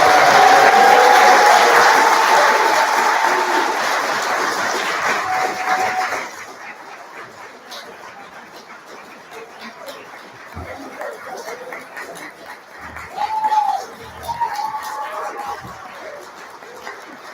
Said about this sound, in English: So I think we should have one last round of applause for the entrepreneurs.